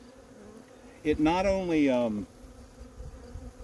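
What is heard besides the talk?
honey bees buzzing at hive feeder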